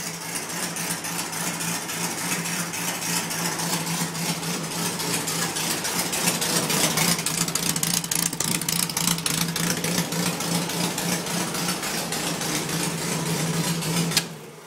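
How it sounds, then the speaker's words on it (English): A dune buggy's stock, unmodified 1600 VW engine idles steadily with a loud, continuous rumble and an even mechanical chatter, holding constant throughout and cutting off abruptly at the end. "that's a stock 1600 VW motor"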